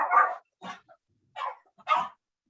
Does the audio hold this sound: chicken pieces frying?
no